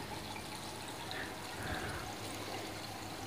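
Water pours steadily from an Amara AA 2600 aquarium box filter, a continuous close rush and trickle of falling water with no pause across the clip.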